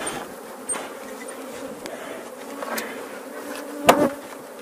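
A swarm of honeybees hums steadily at close range around a freshly captured hive that is still settling, with a few sharper buzzes and bumps and one louder burst near the end.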